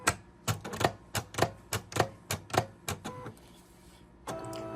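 A craft cutting machine slicing appliqué fabric with a regular blade gives a run of sharp, evenly spaced clacking ticks, close and fairly loud, before settling into a softer mechanical hum.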